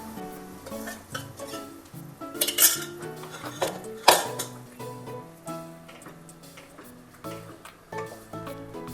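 Metal clinks and scrapes of a spoon stirring drumstick and onion sambar in a cooking pot, busy and close, with a faint sizzle beneath.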